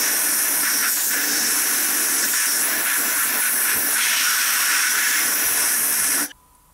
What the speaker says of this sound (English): so I'm just going to blow it out of the airline.